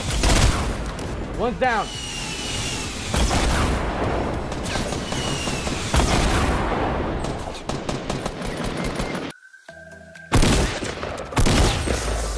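Bursts of automatic gunfire from the video game Fortnite crackle loudly and repeatedly in close, dense volleys, with brief pauses between them; a voice speaks briefly over the shooting.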